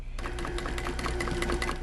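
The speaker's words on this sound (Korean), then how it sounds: "자투리 천 때문에 다시 재봉틀 앞에 앉았습니다." An old sewing machine, in use since 1945, stitches fabric scraps in a quick run of rhythmic mechanical clatter that starts abruptly and keeps a steady, close pace without any talk.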